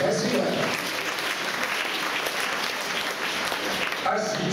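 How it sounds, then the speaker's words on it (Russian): Audience applause for performer Denis Shiferov at a stage concert, a dense, steady wash of many hands clapping that runs the whole time and eases slightly near the end. "аплодисменты Денису Шиферову"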